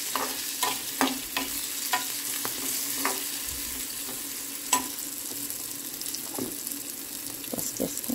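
Onions fry with salt in a pan in a home kitchen, a steady, fairly quiet sizzle that runs throughout. A spatula stirs in scattered light scrapes and taps.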